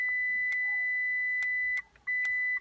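Short electronic beeps from a car alarm: a sustained high tone broken by several sharp chirps, close and loud, with a brief gap near the end.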